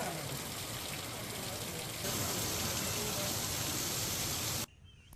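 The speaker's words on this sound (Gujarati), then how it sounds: "છેલ્લા 30 મિનિટથી ધોધમાર વરસાદ વરસી રહ્યો છે।" Heavy downpour in Gujarat, a dense continuous roar of rain that grows louder midway and then cuts off abruptly near the end.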